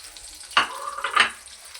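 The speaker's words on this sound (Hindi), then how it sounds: "इसको हम करेंगे हल्का सा फ्राई।" Sliced onions fry lightly in a pan for chicken palak aloo curry, giving a brief, soft sizzle and stirring scrape that swells twice, close up and with no talk.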